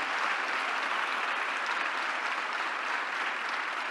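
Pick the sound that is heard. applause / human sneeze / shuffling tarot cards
applause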